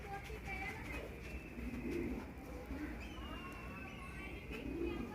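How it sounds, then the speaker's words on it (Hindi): Gola pigeons cooing softly in low, repeated calls, close by against a steady background hum, with a faint voice and scattered thin chirps around them. "और बाकी मेरे गोले कबूतर हैं"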